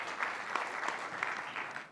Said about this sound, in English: A little bit of round of applause here, everybody.